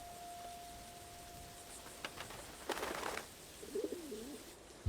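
Rock pigeons coo softly among fortress-like walls in a dry Middle Eastern landscape, a low rolling call near the end over faint hiss and a few distant clicks.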